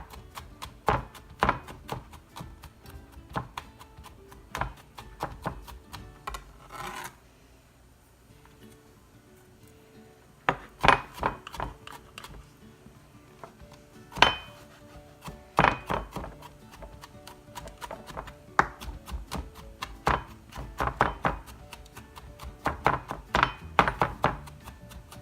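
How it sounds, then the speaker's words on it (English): Garlic cloves being chopped and then minced with a knife on a wooden board, giving bursts of quick, close, sharp thunks, with short pauses between the runs of strokes. "if you're chopping your garlic, it can be this size or it can be slightly smaller, but if you're mincing it, you want it to be a lot smaller"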